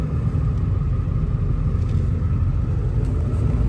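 A truck engine idles with a steady, loud low rumble throughout, close by and unchanging.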